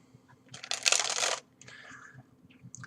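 Playing cards dribbled from one hand, a quick dense burst of riffling card flutter followed by a softer trailing patter, close and crisp, no talking.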